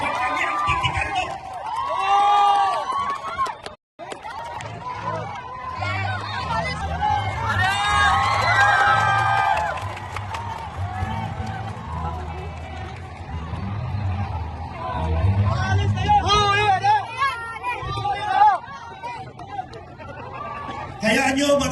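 A crowd at an Iglesia ni Cristo rally shouts and cheers in waves, with someone talking over a loudspeaker throughout and the crowd noise swelling loudly several times.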